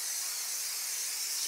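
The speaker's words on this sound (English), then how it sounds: "We used spray for the pans" A steady, close hiss of aerosol cooking spray onto baking pans, even and continuous with no breaks, no voices.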